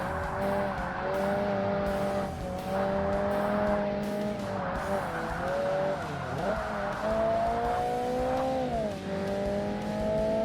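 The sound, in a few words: race car sliding with tire squeal in video game Forza Motorsport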